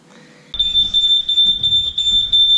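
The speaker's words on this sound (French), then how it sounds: "On se tape encore une alarme." Smoke alarm in a hostel suddenly starts up after a quiet moment, a loud, piercing, steady high beep that keeps sounding close by with no talk.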